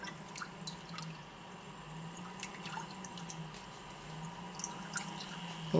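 Water dripping and splashing from a Vortech wave pump stirring an aquarium's surface, a steady close wet patter of small drips over a constant low hum.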